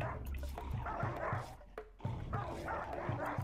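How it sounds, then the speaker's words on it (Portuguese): Many dogs bark in the colony video game Rimworld, a rapid overlapping run of yips and barks close up, with a short whimper in the middle. "Caramba, quanto cachorro!"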